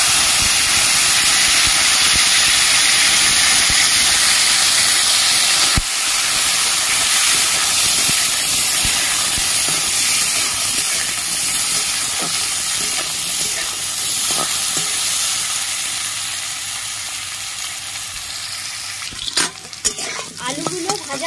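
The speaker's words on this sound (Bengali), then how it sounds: "কেটে রাখা আলু দিয়ে দিচ্ছি।" Cut potatoes hit hot oil tempered with dried chilli, producing a loud, continuous close-up sizzle and hiss that gradually softens, with stirring clatter and knocks near the end and no talking.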